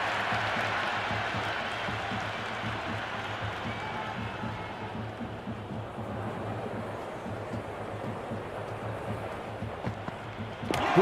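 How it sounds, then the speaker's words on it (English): A stadium crowd in the Cricket 26 IPL video game cheers and applauds continuously, a dense wash of noise that swells slightly at the end, with commentary voices talking over it. "The crowd is electric right now."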